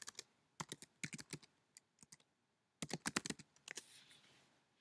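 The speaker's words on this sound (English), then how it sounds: "type in Patched-Sur" Computer keyboard typing up close: quick bursts of crisp key clicks grouped into short runs with brief gaps, quiet and alone.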